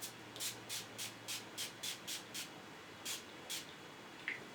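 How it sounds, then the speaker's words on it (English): A series of quick spray bursts, about ten short hissing puffs in an uneven rhythm, faint and close in a quiet room. "I'm just going to spray myself with the NYX Dewy Finish Setting Spray."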